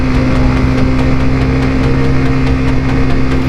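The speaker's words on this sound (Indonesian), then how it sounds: "Mungkin suara sepeda motor saya kedengeran ya. Ini saya gunakan gigi 3." Motorcycle engine pulling uphill in third gear on a climbing mountain road, a loud, steady close drone with a constant low hum and no talk.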